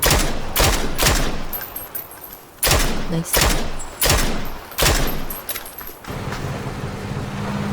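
Gunfire from the video game PUBG comes in repeated loud bursts of automatic shots, separated by short pauses, with engine-like noise in the background.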